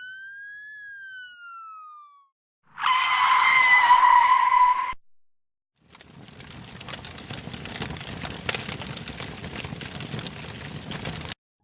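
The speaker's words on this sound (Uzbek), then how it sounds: "O't o'chirish xodimi mashinani jiddiy to'xtatib," A fire truck in a children's cartoon brakes hard with skidding tires: a loud tire screech of about two seconds, then a steady rumbling, clattering roll after a short pause. No talk.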